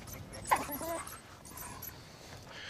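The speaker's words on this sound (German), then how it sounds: "Es ist übrigens eine Hündin." A female dog at Harnas in Africa gives a few soft whimpering whines, faint and brief amid a quiet outdoor background with some low rumble.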